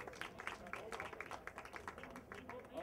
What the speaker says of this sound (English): Let's give another round of applause to Coma.